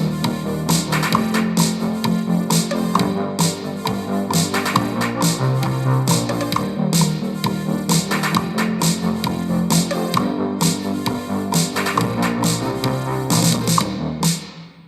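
Synthwave arrangement built in GarageBand on an iPhone 5S, with a sequenced drum pattern added over retro 1980s-style synthesizers and bass, playing loud, dense and steady the whole way through with no talking.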